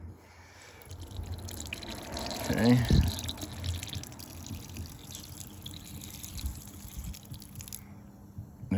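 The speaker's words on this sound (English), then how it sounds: "Just let a little bit of water out of there." Water running from an outdoor hose bib faucet being flushed, a soft steady trickle and splash with a brief louder gush early on, while someone talks briefly.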